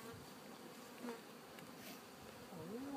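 Honeybees from a package are installed into a hive while a smoker is used. They give a faint, continuous buzz, with a few individual bees droning past nearby.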